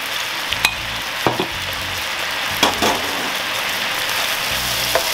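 Garlic fries in a pan of hot oil with a steady, loud sizzle, broken by a few soft clicks and stirring taps, and no voices.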